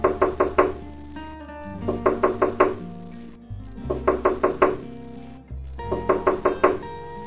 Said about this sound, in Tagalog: may nakatok sa pinto